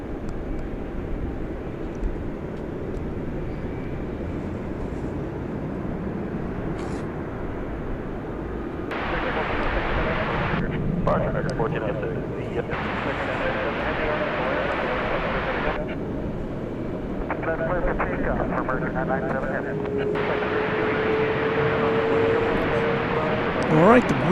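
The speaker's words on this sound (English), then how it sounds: "All right, the Buenos Aires triple is cleared for takeoff." A Boeing 777 airliner bound for Buenos Aires taking off from DFW Airport at night, a distant, steady jet roar that slowly swells, with radio chatter and voices talking over it.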